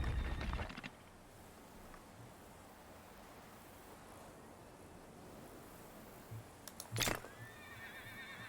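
Horse neighs at a horse ranch in the strategy game Humankind: a loud whinny opens the sound, and a second short neigh comes near the end over a steady, soft ambient wash.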